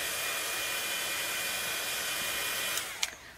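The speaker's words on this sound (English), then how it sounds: "So I'm going to hit this with the heat tool." A heat tool blowing hot air over watercolor paper, a steady close whooshing roar that holds evenly throughout, then ends with a couple of sharp clicks.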